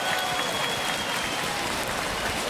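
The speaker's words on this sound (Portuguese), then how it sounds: "Ai, bate palma aí, caralho." An audience at a Brazilian freestyle rap battle applauds in a steady, dense wash of clapping heard from a distance and fairly faint, with crowd noise blended in.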